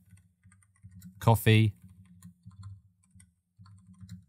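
A computer keyboard being typed on, with a quick burst of close, crisp keystrokes in the middle and a voice speaking before and after.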